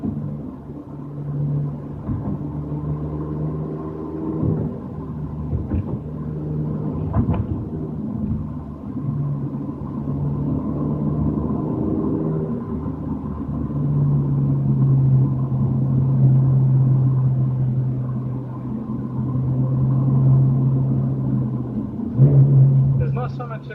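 Low, steady engine rumble from a Ferrari 458 Speciale driving through Sydney streets, a droning hum that swells and eases as the car moves, with occasional faint knocks and no clear talk.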